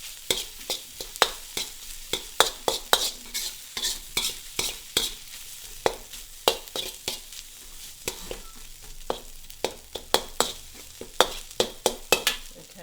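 Egg fried rice stir-fried in a wok with a big round ladle, the ladle scraping and knocking in a quick, uneven rhythm over a steady sizzle, close and fairly loud, with no talking.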